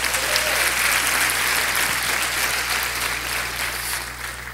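Congregation at a church service claps for the Lord, a dense, steady applause filling the space for several seconds, with a low constant hum beneath and a slight fade toward the end.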